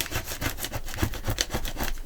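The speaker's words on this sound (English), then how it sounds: "I'm looking for something that will scrape glue" Glue scraped off a craft mat with a hand tool, a continuous rhythmic rasping and scraping of quick strokes, close and fairly loud, with no voices.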